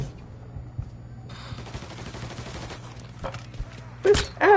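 Gunfire in Mafia 3, a steady run of rapid shots under a low continuous hum, ending in a louder close burst of shots near the end.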